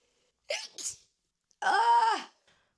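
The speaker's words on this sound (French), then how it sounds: "Attendez, j'ai éternué." A woman sneezes, a short sharp intake followed by a loud voiced burst, close and clear against silence.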